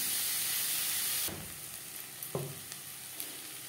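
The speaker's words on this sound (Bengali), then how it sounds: "পেঁয়াজের সাথে রসুন বেশ ভালো করে মিক্স করে দেবো।" Sliced onion and crushed garlic fry in a pan for a spicy bhetki fish curry. A loud, dense sizzle drops suddenly to a quieter crackle, punctuated by a few sharp utensil taps against the pan.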